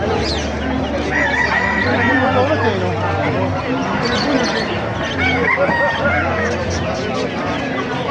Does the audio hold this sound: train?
no